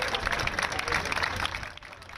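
A street crowd lined up for the Olympic torch relay in Paris claps and cheers in a steady, moderately distant wash of applause that holds for the full stretch before easing slightly near the end.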